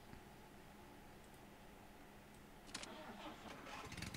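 A car engine in the Jalopy driving game cranks over and catches, its starter whirr giving way to a rising, rumbling idle at close range.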